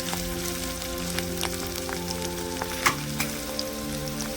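Onion pieces, green chilli and coriander frying in oil, a dense steady sizzle like light rain with occasional crackles and a soft spoon tap, close and without talk.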